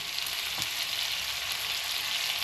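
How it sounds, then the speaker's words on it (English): Lamb shanks sizzling as they brown in a frying pan, a soft, even crackle and hiss of hot fat throughout, with no voices. "We're just going to brown those off now."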